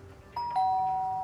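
A two-tone electronic doorbell chime in the Lake video game, a single ding-dong whose second note rings on steadily, clear and close over a quiet background.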